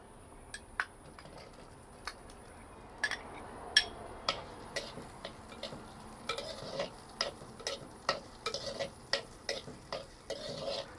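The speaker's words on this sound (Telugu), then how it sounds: "ఇప్పుడు కొంచెం సేపు ఆనియన్స్ని బాగా గోల్డెన్ బ్రౌన్ వచ్చేదాకా ఫ్రై చేసుకోవాలి మీడియం ఫ్లేమ్లో ఫ్రై చేసుకోవాలి" Onions frying in hot oil on a medium flame while a utensil stirs them, a faint sizzle under a string of sharp metallic taps and scrapes that come faster toward the end, close up with no talk.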